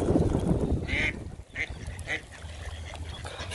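A goose honks and a mother duck quacks in a few short, fairly close calls over a low background rumble, with a voice shooing the goose away nearby.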